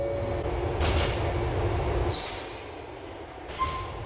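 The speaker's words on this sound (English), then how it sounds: "Oh, the train's right here." A subway train pulls in at a station in Grand Theft Auto's Liberty City: a heavy, rumbling roll with faint metallic squeals that eases off after about two seconds, leaving a quieter hum and a brief clank.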